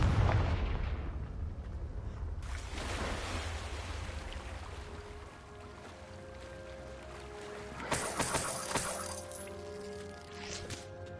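A Confringo spell explosion in Hogwarts Legacy, a loud broad blast with a rumbling low tail, followed by another bright burst and a crackling fizz with tonal game music underneath.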